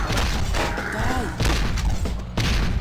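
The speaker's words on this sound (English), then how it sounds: "How the hell am I exploding?" Explosions going off in the game PlaZma Blast, dense booming blasts and crashing impacts packed across the whole stretch, loud and close, with a voice talking over the din.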